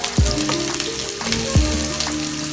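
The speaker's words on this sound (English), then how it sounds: "Now time to saute these dugo, the onions and garlic" Onions and garlic sautéing in olive oil in a pan for chicken curry, a steady close sizzle broken by a few sharp bursts as ingredients are stirred or added.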